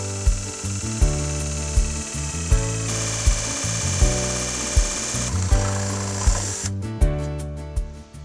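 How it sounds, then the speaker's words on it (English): A power drill whirs continuously through a shadow box frame board, its pitch shifting as it bites, with regular knocking pulses about once a second, up close. "first I'm going to drill a hole in the middle for the lights to go through"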